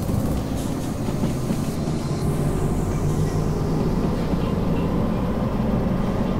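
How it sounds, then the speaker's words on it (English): Triple-engine DE2 diesel locomotive in Derail Valley hauling over 700 tons of steel, a steady loud rumbling drone with rail noise running continuously throughout. "A triple engine DE2 pulling 700 and something tons of steel."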